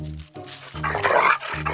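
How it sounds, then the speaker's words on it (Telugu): A dog barks and growls close by in short bursts, loud and agitated, with brief pauses between. "కరిచే కుక్క అంటారు కదా ఇది కరిచే కుక్క అస్సలు అరవదు"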